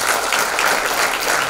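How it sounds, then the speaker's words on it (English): Loud, steady applause from an audience welcoming a guest speaker at a policy bootcamp event, a dense continuous wash of many hands clapping with no voices over it. "So please welcome Mr. Tamal Bandyopadhyay with a huge round of applause."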